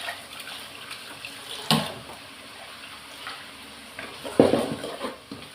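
Tamarind water poured into a pan of sautéing vegetables in oil, giving a soft running splash with a louder burst near the end over a faint sizzle, with no talking.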